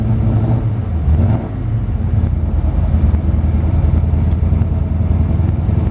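A 1932 Ford Cabriolet hot rod engine runs at a steady, rough idle, a dense low rumble close by with a brief lift in revs early on and no talking.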